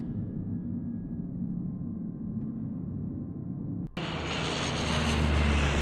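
Airplane engine in the PC adventure game Secret Files: Tunguska, a steady low droning rumble that suddenly swells into a louder, brighter roar partway through, with no voices.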